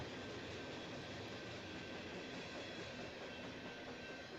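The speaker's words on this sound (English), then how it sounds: "here's the rear of the DDG train" Rear cars of a DDG freight train rolling west past the trackside spot, a steady, loud, continuous wash of rail and wheel noise that holds even throughout, with no talking.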